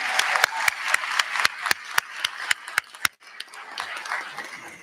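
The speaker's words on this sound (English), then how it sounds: "Can we applaud them again?" Audience applause for a concert choir at a university freshman convocation: a scattered run of sharp individual claps over crowd murmur, thinning and briefly dropping out near the end before picking back up softly.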